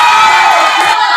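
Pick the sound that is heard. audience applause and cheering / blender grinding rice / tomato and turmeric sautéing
audience applause and cheering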